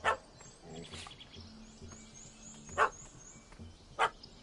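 A dog in The Witcher 3 barks in sharp, separate yaps: one right at the start, then two louder ones spaced apart. Faint bird calls and low ambient sounds from the game world fill the gaps.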